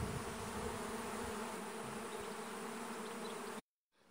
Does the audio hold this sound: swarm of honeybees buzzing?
yes